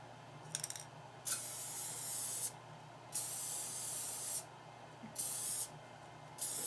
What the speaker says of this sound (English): put a coating of adhesive on the inside of the glass. Now you don't want to spray it too thick